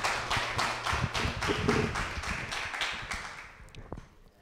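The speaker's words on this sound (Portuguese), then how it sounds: "Uma salva de palmas, gente." Audience applause welcoming a guest speaker at a seminar on the 1984 Guariba sugarcane workers' strike: dense steady clapping from a crowd that fades out over a few seconds.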